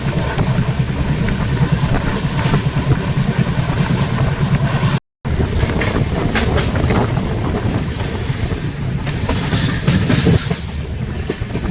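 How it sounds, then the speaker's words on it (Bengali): Duronto Express 12259 from Sealdah to Bikaner rolls along the rails, with loud, steady wheel rumble and rhythmic clickety-clack heard close from on board, briefly cutting out for a moment mid-run. "নির্ধারিত সময় থেকে 1 ঘন্টা দেরিতে ট্রেন চুরু ঢুকছে।"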